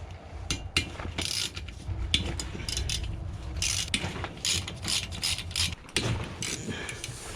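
Hand tools work on an Acoma Super Comtesse moped engine while its top end is removed: quick ratchet clicks and metallic taps come in irregular bursts at close range, with no talking.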